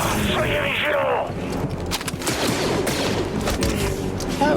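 Blaster fire and combat effects from the video game Star Wars Jedi Fallen Order, with dense loud shots and bursts running throughout under continuous game noise, while someone talks over the action.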